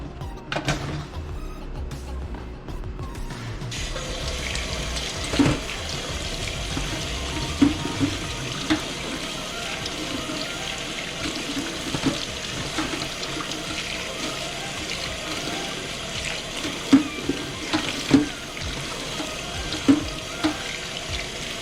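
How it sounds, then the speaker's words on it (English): Kitchen tap water runs steadily as mushrooms are rinsed under it, a continuous splashing stream with occasional louder spatters, close and moderately quiet, no talking. "For the mushroom here, guys, I'm just gonna rinse it off."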